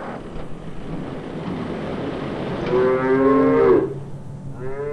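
Cattle on a desert kibbutz farm in Israel's Arava region, one loud, drawn-out moo followed by a shorter second call, heard alone over steady wind noise.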